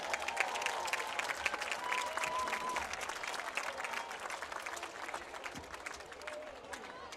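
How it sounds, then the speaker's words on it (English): Crowd applause at a 2022 high school football homecoming, Middletown at Colerain, sustained and broadband throughout, with voices and cheering mixed in under a steady roar. "Let's have a round of applause for our 2022 candidates and representatives"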